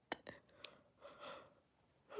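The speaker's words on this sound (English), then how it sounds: "Sorry, I'm yawning." A person yawning in a quiet indoor setting, a few brief breathy gasps followed by a longer drawn-out exhalation, close and soft, with no speech.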